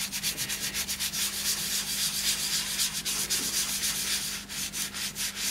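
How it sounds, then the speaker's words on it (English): Continuous hand rubbing of finish into a laurel wood box held on a stationary lathe, a steady close scratchy friction with rhythmic strokes and a low background hum, no voices. "Rub it in well, all over, with the lathe still."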